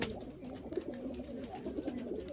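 Punjabi Malwai pigeons coo continuously at close range, soft rolling throaty calls overlapping one another in a quiet setting.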